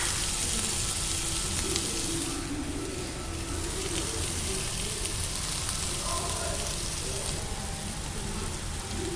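Finely chopped onion dropped into hot oil with cumin seeds, frying with a steady, dense sizzle and crackle that runs continuously at close range without any voices.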